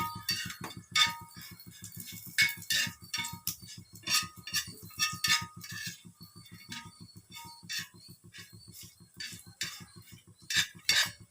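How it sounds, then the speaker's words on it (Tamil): Fried dried fish with curry leaves stirred in a pan over high flame, a run of metallic clinks and scrapes from a utensil against the pan repeating in an uneven rhythm, fairly close and alone. "ஒரு ஹை ஃப்ளேம் வச்சு நல்லா ஒரு வாட்டி இப்படி கிண்டி எடுத்துக்கோங்க."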